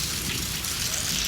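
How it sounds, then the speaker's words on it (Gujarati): A village's first rain of the season falls steadily in a dense, even hiss of drops, close and continuous for a brief moment. "પહેલો વરસાદ સારો થયો છે આપણો ગામમાં."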